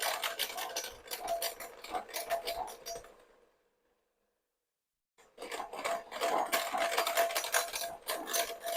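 Egg nog ingredients beaten and mixed together with a whisk in a bowl, rapid clattering strokes in quick bursts, then a pause of silence before the brisk beating resumes.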